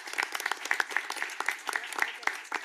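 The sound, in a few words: audience applause for conservation corps members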